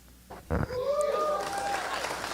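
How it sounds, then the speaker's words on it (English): Applause from an audience at the 2025 National STOL Series Championship awards ceremony in Sulphur Springs bursts in suddenly and holds steady, with a few whistle-like tones riding over it. "Big round of applause for Anitra, the Stole Queen."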